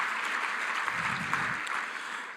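Dinner guests at a Team Botswana appreciation dinner give a round of applause, a steady wash of many hands clapping that swells briefly in the middle and holds for a couple of seconds.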